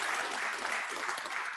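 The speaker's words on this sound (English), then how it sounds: "Let's give Howard a round of applause." Audience applause at an evening class for a participant who has just given his name: a steady, dense patter of many hands clapping together, fairly close, sustained throughout the short stretch with no voices over it.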